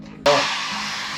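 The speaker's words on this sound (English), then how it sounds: "Pull out our hair blower." A hair dryer in an interior cabin aboard the cruise ship Carnival Firenze switches on abruptly and keeps up a steady, loud, close whooshing roar with a faint high whine.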